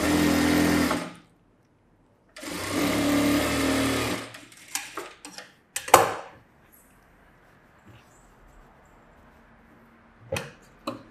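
Domestic sewing machine stitching a half-inch folded hem on a princess-cut blouse, running in two long bursts near the start, then short stop-start runs and taps with quiet gaps between.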